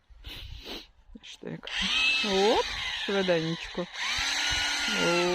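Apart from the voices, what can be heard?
hammer drill drilling holes in garden soil for planting seedlings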